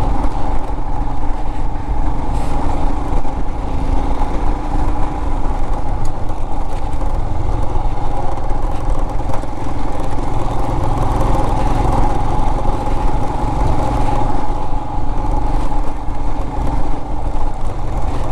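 Royal Enfield Himalayan 411 motorcycle ridden off-road over a rough gravel track in Spiti Valley, engine droning loud and close without pause, with wind buffeting and the bike jolting over bumps.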